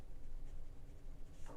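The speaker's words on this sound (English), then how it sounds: "Let me just write that down." Pen writing a note during a computer science lecture, a soft continuous scratching and scribbling, faint and close, with no talk.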